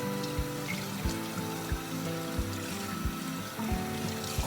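Water running from a tap over a paper Chemex coffee filter being rinsed, a steady close trickle and splash with regular low knocks underneath, no talking.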